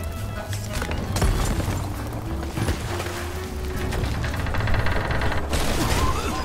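Gunfire in the pirate video game Sea of Thieves: a rapid run of shots and booms across the clip over dense, rumbling ship and ocean ambience, loud and fairly close.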